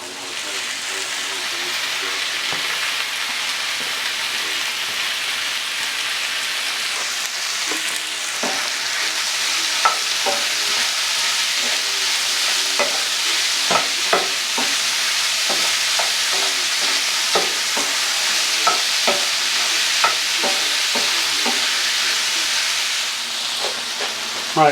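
Chopped steak and potatoes fry in a hot pan for taco filling, a steady loud sizzle with scattered stirring and scraping clicks running throughout, no talk over it.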